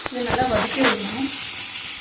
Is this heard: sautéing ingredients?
yes